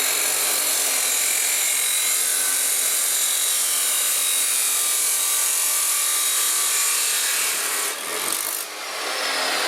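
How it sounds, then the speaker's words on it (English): A traditional chop saw cuts with a loud, continuous high-pitched grinding whine that holds steady for several seconds, then briefly dips near the end. "And this is the traditional chop saw."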